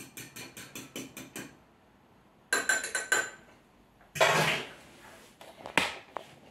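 Repeated quick clinks of a utensil beating omelette mixture in a bowl, in three separate bursts of rapid rhythmic taps and scrapes, close and fairly loud.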